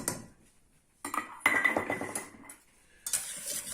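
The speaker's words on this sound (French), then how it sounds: "On mélange le tout. Donc sucre glace, broyage d'amande pur et farine." A utensil clinks and scrapes against a bowl as sugar, ground almonds and flour are mixed by hand, coming in short close bursts with pauses between.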